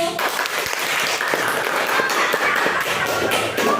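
Pupils in a fifth-grade classroom clap for group 1, brisk, loud, fairly sharp hand claps filling nearly four seconds without a break.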